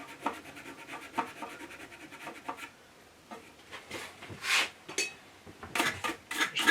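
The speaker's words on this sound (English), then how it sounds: "if I just rub that backwards and forwards on there and just clean it up and just scuff the face up a little bit" A part of a wet stone sharpening system rubbed back and forth to scuff its face, giving rhythmic close scraping strokes, evenly spaced at first and then louder, more irregular rasps.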